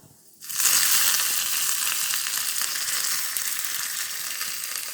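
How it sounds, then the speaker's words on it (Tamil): Urad dal and curry leaves hit hot oil after mustard seeds pop, with a sudden loud sizzle that starts after a brief quiet moment and then holds as a steady, bright frying hiss, close and with no talking. "கொஞ்சம் உளுத்தம்பருப்பு போடலாம். போட்டுட்டு அப்புறம் கருவேப்பிலை போடலாம்."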